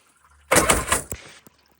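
Water gushing out of a flooded mini jet boat engine, a loud splashing pour lasting under a second that cuts off abruptly, followed by a single brief drip or knock.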